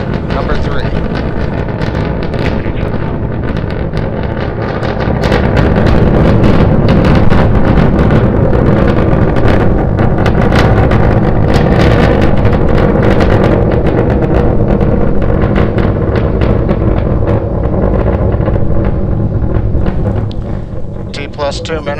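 A powerful, continuous roar of SpaceX Starship rocket engines during a test flight rumbles heavily and loudly throughout, a dense broadband thunder with crackling texture.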